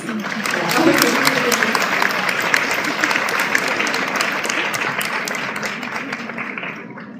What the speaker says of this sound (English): Now, don't you all think that she deserves a round of applause?